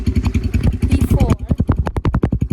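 A V4 dirt bike engine, just started with the choke on, idles with a rapid pulsing putter, then picks up in a quick rev whose firing pulses spread apart as it settles, close to the microphone.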